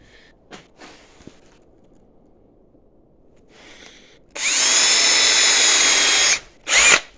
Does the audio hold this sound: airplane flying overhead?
no